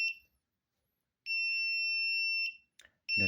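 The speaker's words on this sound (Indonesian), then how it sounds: "buzzer memiliki jeda 1 detik" An IoT parking distance sensor's buzzer, set off when an object is more than 20 cm away, sounds a few loud, clean electronic beeps separated by pauses of about a second, in a quiet room.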